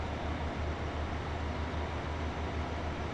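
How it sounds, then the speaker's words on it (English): Train Sim World 2 locomotive on the West Cornwall local line, heard as a loud, steady low rumble with rhythmic pulsing through the countryside, continuous and alone with no talk. "Too loud, if anything. The sound of the train."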